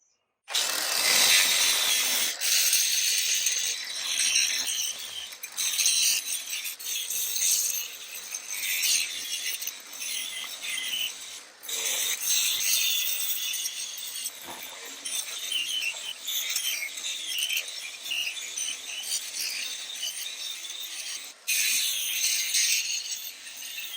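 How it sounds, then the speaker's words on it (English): A grinder wheel cleans out cracks in a concrete garage floor being prepped for epoxy, giving a harsh, continuous high-pitched grinding that rises and dips as the tool moves along the cracks, loud and close. "we're going to try to take this grinder wheel and clean out these cracks pretty good"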